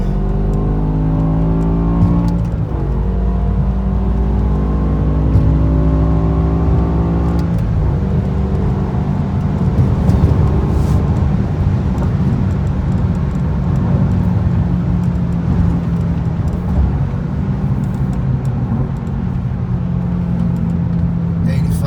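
A BMW E60 M5 is driven hard on San Diego roads, heard from inside the cabin as a loud, sustained engine drone with shifting harmonics, easing off briefly around the middle before pulling steadily again.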